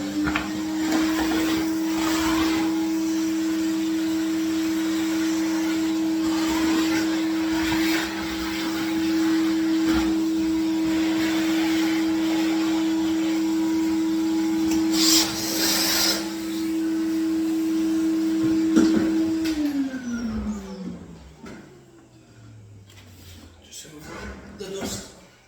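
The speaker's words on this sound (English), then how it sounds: "Any hoover." A Henry vacuum cleaner hoovers up drilling dust after holes are drilled for hanging a radiator, a loud steady motor whine running for about twenty seconds before spinning down, with a voice talking over it.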